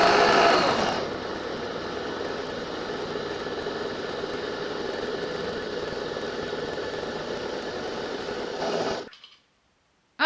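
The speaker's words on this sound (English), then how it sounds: "now it's starting to push the water through and push the coffee out into the carafe." A Nespresso Vertuo coffee machine pumps water through the capsule and pushes coffee into a carafe, making a steady vibrating hum with a faint hiss. It is close and moderately quiet, then stops abruptly near the end.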